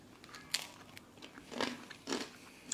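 Crunchy food being bitten and chewed: three sharp, close crunches land about a second apart, with quieter crackly chewing between them and no talking.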